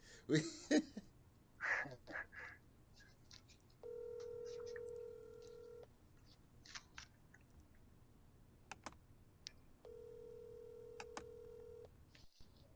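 Telephone line sounds as a caller dials into a radio show: two long, steady ringback tones about six seconds apart, with short clicks, a cough and throat clearing between them.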